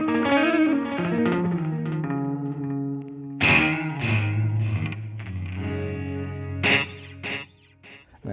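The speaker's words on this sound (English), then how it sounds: "My delay is no longer bothering my reverb, just kind of kept out of the way." An electric guitar played through a Line 6 Helix LT with parallel delay and reverb rings out in sustained, effected chords and notes, with fresh strums at a few points and echoing tails trailing behind, without any talking.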